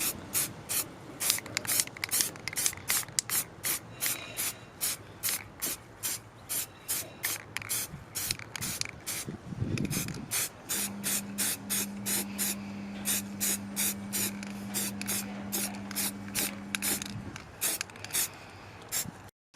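Rhythmic bursts of an aerosol spray can coating a car engine bay with leftover Hammerite metal paint, repeated short hisses close by, with a steady hum joining midway and no talking.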